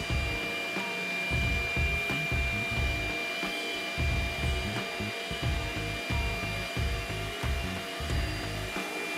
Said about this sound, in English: So with your vacuum set up like so, got my hose, a vacuum, all I'm gonna do is kick it on